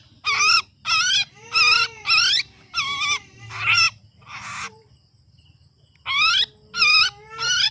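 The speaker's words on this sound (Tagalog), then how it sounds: "Sa sobrang ingay ng ibon na ito" A bird squawks loudly and harshly in a rapid series of close, shrill calls, pausing briefly before another burst of three cries.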